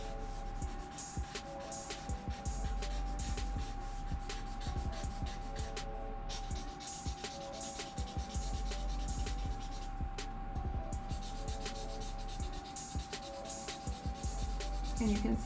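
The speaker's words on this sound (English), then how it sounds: "I can also use my blending stuff or my tortillon to blend this." Charcoal rubs and scratches softly across drawing paper in repeated short strokes as it is blended, quiet and close, with a steady background hum and occasional pauses.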